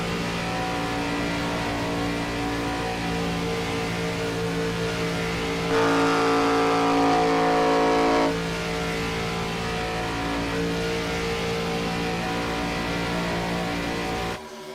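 IROC Challenge Series race cars at Atlanta drive down toward the start-finish line, making a continuous loud engine drone. It swells briefly as the cars pass near, then settles back to a steady roar.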